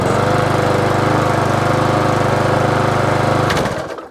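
A small engine on a cheap copy carburettor from Amazon runs loud and close with a rapid, throbbing exhaust note that holds steady before cutting out and winding down at the end.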